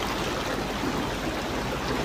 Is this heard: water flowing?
yes